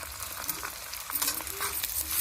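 Chopped onion frying in a pan with garlic, ginger and chili for an aubergine curry, giving a steady soft sizzle with light stirring scrapes, close and continuous, growing slightly louder.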